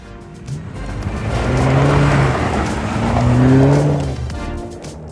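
A Toyota 4Runner, sixth generation, is driven hard into corners, its engine and tire noise swelling loud and close in two broad surges with faint squealing tones.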